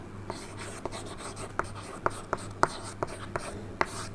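A pen writes an example sentence on paper, giving soft scratchy strokes with a string of sharp taps and dots at irregular intervals over a low steady hum, close and quiet.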